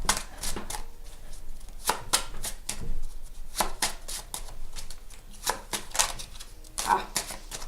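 A deck of playing cards is shuffled by hand during a card trick, producing a quick run of crisp riffling and snapping bursts up close, while someone speaks French over them.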